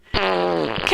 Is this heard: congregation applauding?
no